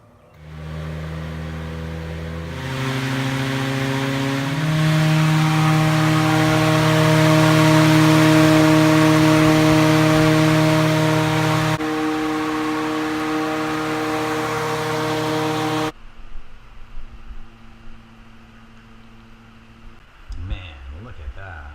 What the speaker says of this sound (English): when the blower door is running.